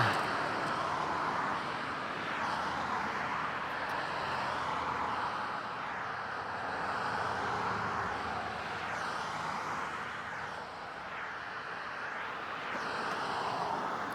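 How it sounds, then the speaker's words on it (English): Fast car traffic on a road heard while riding an Engwe E26 electric bike, a continuous broad roar of passing vehicles with wind noise, steady and fairly close. "Lots of cars moving very fast."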